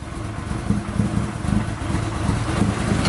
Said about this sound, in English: That's how low it's idling.